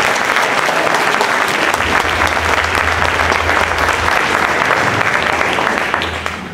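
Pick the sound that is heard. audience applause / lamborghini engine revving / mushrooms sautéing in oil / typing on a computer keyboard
audience applause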